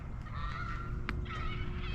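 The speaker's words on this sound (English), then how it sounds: "Some geese landing in the field." Geese honk faintly and far off as they land in a field, with a few nasal calls rising over steady outdoor background noise.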